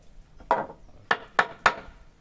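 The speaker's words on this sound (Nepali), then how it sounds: "बिस्तारै ठोक यसलाई" Wood being hammered, four sharp knocks: one at the start, then after a pause three more in a quick uneven run, each close and loud against a quiet background.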